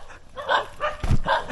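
Dogs in the Vietnamese countryside chase a motorbike, barking in three or four quick, close yaps with a thump of wind or engine noise between them.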